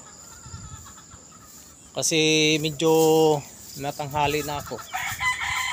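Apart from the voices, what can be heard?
backyard chickens clucking and a rooster crowing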